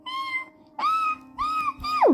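A person's voice imitates a cat meowing, four drawn-out whiny meows in quick succession, the last one sliding sharply downward, close and fairly loud with no other talk.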